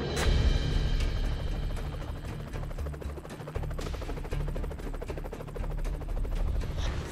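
A helicopter lifts off and moves toward a hover at a remote ranch during a field experiment, its rotor chop thudding loud and steady with a dense, continuous roar and no voices over it.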